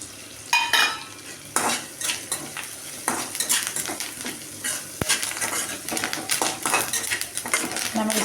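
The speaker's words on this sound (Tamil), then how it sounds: "நல்லா வெங்காயம் வணங்கிடுச்சு. இந்த ஸ்டேஜில் கருவேப்பிலை போட்டுக்கலாங்க." Onions and curry leaves sautéing in a pan for an evening snack, bright sizzling and frying under repeated clinks and scrapes of a metal spoon against the pan, close and fairly loud.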